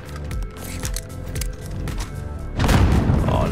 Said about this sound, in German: Ich hab nur rumgeballert.